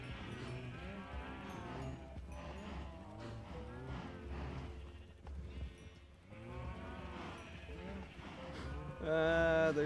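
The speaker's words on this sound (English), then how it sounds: "There's so many cows." Several Minecraft cows mooing in overlapping, drawn-out calls with short pauses between them, close and fairly loud over faint game ambience.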